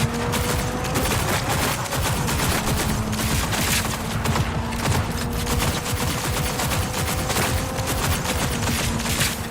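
Rapid bursts of automatic gunfire from a gun in the video game Wuthering Waves, dense and continuous for the whole stretch, loud and close with repeated sharp cracks and no talking.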